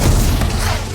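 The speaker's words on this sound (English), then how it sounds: "Homemade fireworks." Homemade fireworks bursting in an animated fantasy scene from Arcane, a dense low booming rumble with crackling thuds running continuously and loudly for the whole second.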